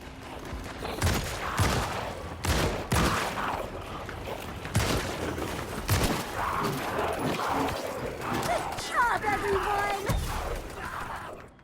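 Rapid bursts of submachine gun fire in the video game FBC: Firebreak, sharp loud cracks in clusters with glassy shattering impacts, a voice talking over the shooting.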